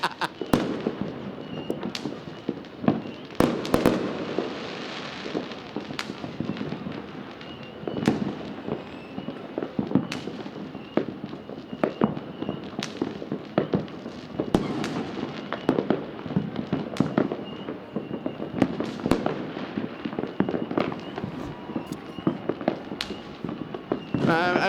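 New Year's Eve fireworks bursting across the city of Cuenca, Ecuador: a dense, ongoing barrage of sharp cracks and booms, some near and loud, others distant, over a rumbling crowd-like background with occasional voices.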